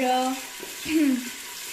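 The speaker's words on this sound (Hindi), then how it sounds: "अब हम इनको लाइट ब्राउन होने तक फ्राई करेंगे" Two to three finely chopped onions fry in oil with a steady, close sizzle, while faint tonal voice-like fragments rise briefly above the hiss.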